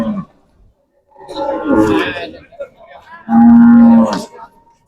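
Cattle at a rural Dinajpur cattle market, Friesian dairy cows among them, give loud, close moos, one long sustained low call near the end, while people talk around them.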